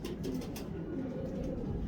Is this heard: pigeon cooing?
yes